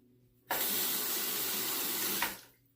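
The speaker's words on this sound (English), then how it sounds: "Rinse off my hands there. And, wet the razor and get started." A bathroom tap runs in a steady, full stream for about two seconds while hands are rinsed and a Wizamet adjustable razor is wetted, then cuts off with a brief tail.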